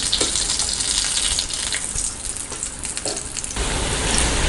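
Bread pakoda pieces frying in hot oil, a steady dense sizzle and crackle running throughout at close range, with no voices.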